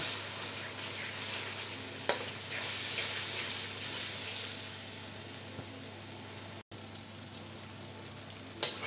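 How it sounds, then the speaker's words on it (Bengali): Ginger-garlic paste and spices frying in a pan for a meat dish, a continuous moderate sizzle with a couple of sharp clinks of stirring, steady and uninterrupted by speech. "দিয়ে দেবো আদা রসুন বাটা। মশলা ভালোভাবে কষিয়ে নেব।"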